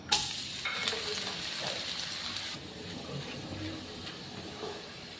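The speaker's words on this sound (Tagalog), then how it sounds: "Ipiprito ko muna itong bawang." Chopped garlic fries in hot cooking oil in a pan for a fish escabeche sauce, giving a steady, close, crackling sizzle that is loudest at the start and settles slightly toward the end.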